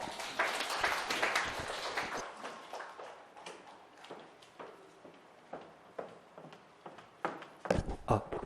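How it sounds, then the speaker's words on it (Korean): Seminar audience at an exam strategy briefing clapping, a burst of applause loudest at the start that thins over a couple of seconds into scattered individual claps and thumps, with faint room noise. "박수 부탁드립니다."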